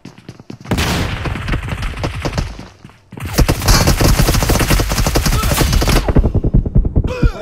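Rapid gunfire crackles in PUBG Mobile, with a dense burst of shots, a short pause, then a longer, louder sustained volley of automatic fire that ends abruptly.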